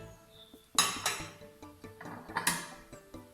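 A china plate is set down on a dining table while the place setting is laid, giving a few light clinks and knocks, moderately close and fairly quiet with soft handling sounds between.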